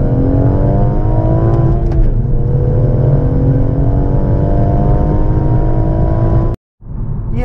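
A 2017 BMW M140i with a stock engine, limited slip differential and Michelin PS4 tyres accelerates hard, its engine note loud and rising through a gear change, then cuts out abruptly before resuming.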